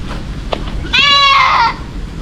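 A goat gives one loud, wavering bleat lasting under a second, close by, after a couple of faint knocks over background noise.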